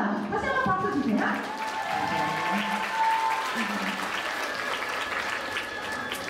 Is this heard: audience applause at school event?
yes